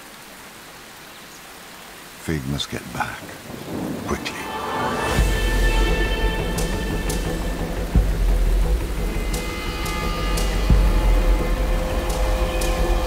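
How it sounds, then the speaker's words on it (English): Steady rain falls through a wildlife scene in a thunderstorm, a broad continuous wash with rumbling thunder building underneath, while a narrator speaks over it. "the rain will wash her scent away"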